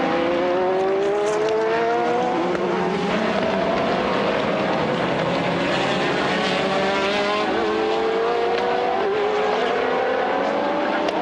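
A Pescarolo Sport Judd prototype race car in the 2009 Le Mans Series Algarve 1000 km, its engine screaming loud and steady as it climbs through gears, the rising pitch sweeps repeating across the clip.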